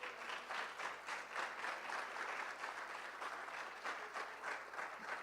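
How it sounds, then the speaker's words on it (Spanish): Rhythmic clapping from an audience at a book presentation, fairly quiet and steady, with hands striking in a regular pulsing beat. "quiero un aplauso para Clodovaldo Hernández."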